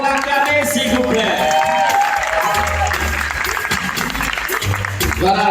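Festival audience applauding and cheering the performer Moucharaf at a twentieth-anniversary evening, sustained loud clapping with crowd noise and voices mixed in, while low music plays underneath.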